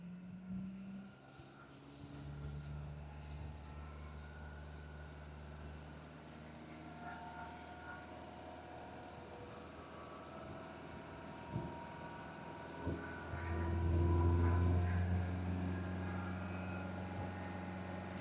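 A Hyundai Sonata engine idles and then revs up to higher RPM, a faint mechanical drone that swells louder near the end, heard up close in a quiet garage.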